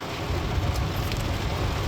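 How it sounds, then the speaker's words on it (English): Rain hisses steadily over a highway in New Mexico, a dense, even wash of noise with faint scattered taps that could be light hail, under the low rumble of a vehicle. "it's raining. A little bit of hail"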